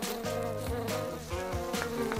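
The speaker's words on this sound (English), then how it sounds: "Ah, bees are here. They're buzzing." Bees buzz steadily near by, a low droning hum with wings whirring in and out, fairly quiet and with no voices.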